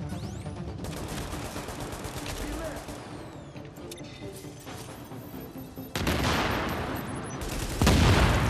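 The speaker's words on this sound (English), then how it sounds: "My turret's doing good work." Sustained automatic turret gunfire rattles through a firefight in the video game Tom Clancy's The Division, dense rapid shots with louder bursts near the end, heard under a voice.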